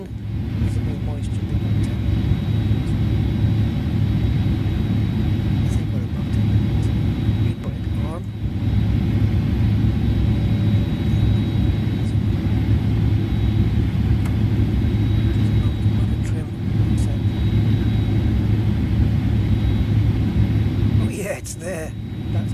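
Engines on a Fenix A320 run in Microsoft Flight Simulator, a steady low droning rumble with a faint high whine, heard continuously under occasional soft clicks and cockpit noise.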